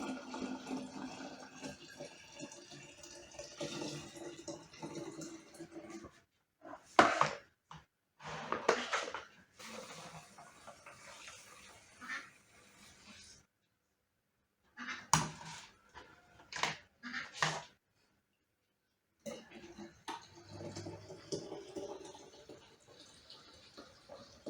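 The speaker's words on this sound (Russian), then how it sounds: "Процеживаю молоко. Это у меня утренняя дойка." Fresh milk from the morning milking poured and strained at a rural homestead, a soft intermittent liquid trickle and splash with clinks of a metal pail, broken by short pauses.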